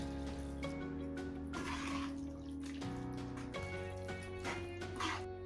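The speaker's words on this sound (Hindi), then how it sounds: "तो इसी में मैं 1 कप पानी डाल रही हूँ।" A cup of water poured into simmering jackfruit masala gravy in a home kitchen, a faint pour and trickle with light splashes under steady background music.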